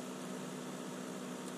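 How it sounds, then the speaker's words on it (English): A portable air compressor inflates a car tire with a faint, steady mechanical hum and hiss. There is a constant tone and no change in loudness over a brief moment. "My compressor's doing the job"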